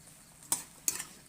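Luffa gourd stir-fried in a pan, with two quick, sharp scrapes of a utensil against the pan about a third of a second apart, each followed by a short, soft sizzle over a quiet kitchen background.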